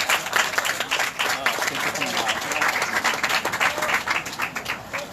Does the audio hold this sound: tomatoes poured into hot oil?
no